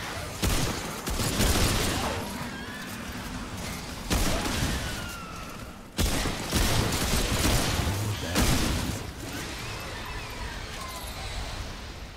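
Rifle gunfire in the video game Remnant 2, rapid bursts of shots coming in repeated volleys with short pauses between them, loud and close, backed by crashes and mechanical clatter.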